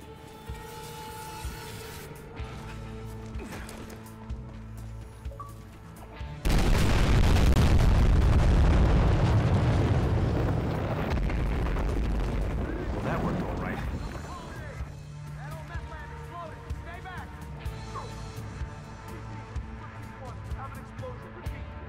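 A meth lab blows up in the video game Battlefield Hardline: a sudden loud, close blast that swells into a long roaring, crackling rumble and slowly fades over several seconds, with game sounds before and after.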